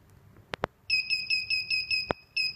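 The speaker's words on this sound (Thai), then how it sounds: "จะเห็นว่ามีไฟกระพริบและก็มีเสียงสัญญาณเตือนขึ้นค่ะ" A DIY ultrasonic distance-sensor burglar alarm, triggered by someone moving a protected object, gives a few sharp clicks and then beeps in a fast, loud, repeating high-pitched pattern with no talking.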